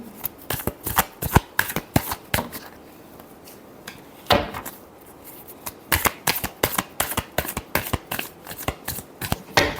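Tarot cards being shuffled by hand, a rapid series of crisp riffling slaps and flutters in close, irregular bursts with brief gaps.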